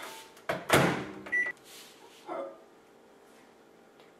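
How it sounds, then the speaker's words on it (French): A microwave oven reheating chocolate at 500 watts for Nutella brownies: a couple of clunks as the door and controls are handled, a short electronic beep, then a faint steady hum. "donc je remets 30 secondes à 500 watts"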